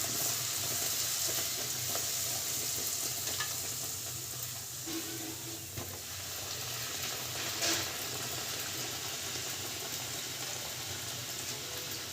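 Puri frying in hot oil for pani puri gives a steady, close sizzle and bubbling that runs throughout, with faint stirring sounds and no talking.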